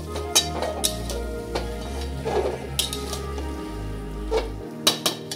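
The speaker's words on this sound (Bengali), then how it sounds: "পুরো কষিয়ে নিতে হবে একদম।" Small potatoes being sautéed in a kadai with spice paste for alur dum, with repeated scraping and clanking of a spatula against the pan over a low sizzle and soft background music.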